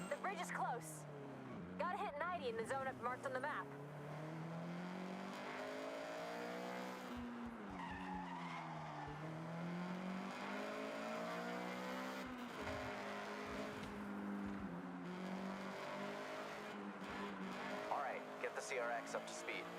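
A Honda CRX in Forza Horizon 6 on rally tires accelerates hard, its engine revving up through gears in rising and falling sweeps with bursts of tire noise, loud and close throughout.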